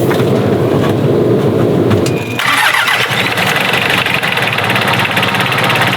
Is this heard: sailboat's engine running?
yes